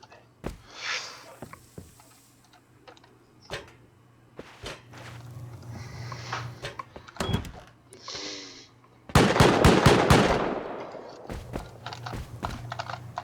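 Auto turret in the video game Rust firing, sharp gunshot cracks scattered singly early on, then a dense rapid burst of automatic fire in the latter half, mixed with clicks and faint game sounds.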